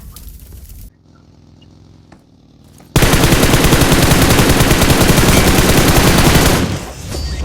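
Loud, sustained automatic gunfire in the game BGMI erupts after a few quiet seconds, rattling continuously in rapid bursts with a synthetic, game-like quality before easing off at the end.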